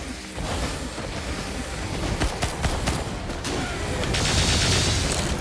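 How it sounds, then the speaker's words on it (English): Rapid spread-shot gunfire from the Nemesis Commando's special in Risk of Rain 2 with the Starstorm 2 mod, a dense run of quick blasts and booms that grows louder and busier toward the end. "So, that quick firing, spread shot. Is my special."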